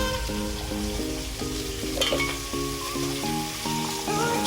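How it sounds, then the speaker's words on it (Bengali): Bata fish frying in hot oil gives a steady, close sizzle that carries through the whole stretch, partly under a melodic music track. "এখানে মাছগুলো প্রায় ভাজা হয়ে এসেছে"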